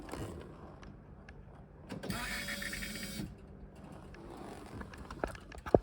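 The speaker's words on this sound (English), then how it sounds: "Oh yes, the pump is working." A faint electric whirring hum from a Volvo 940 Turbo fuel pump starts up briefly with a higher-pitched buzz over low mechanical background noise, then settles, followed by a sharp click.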